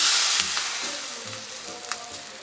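Mustard seeds and turmeric fry in hot oil for a vegetable chhoila dressing, giving a close, steady sizzle with scattered small pops and crackles and no talking.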